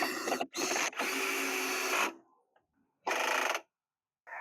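A power driver whirs in short bursts as screws are driven to fasten a bandsaw onto a DIY flip-top stand, loud and close, with brief pauses between runs.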